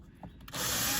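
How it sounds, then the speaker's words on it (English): A 5mm drill whirs into a bonnet deflector to enlarge its side holes, a sudden steady buzz starting halfway through after brief quiet handling sounds. "put your 5mm drill back in, because we're going to enlarge those two side holes"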